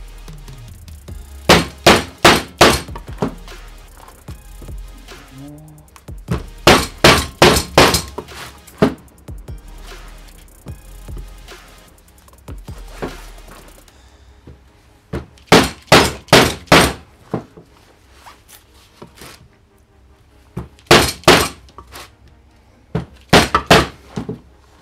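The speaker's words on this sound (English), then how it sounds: "We just finished that last little bit off with a hammer, so I should just tap in." Hammer taps driving a PowerFlex polyurethane bush into the upper control arm of a Porsche 928, heard as sharp metallic strikes in several quick bursts of three to five blows, loud and close, with quiet gaps between groups.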